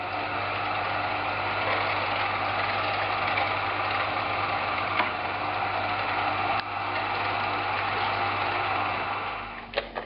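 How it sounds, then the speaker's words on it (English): A meat grinder runs with a steady motor drone and mechanical churning while grinding pork fat, holding level throughout with a couple of faint clicks near the end. "Now all this is going to get ran through the meat grinder 2 times."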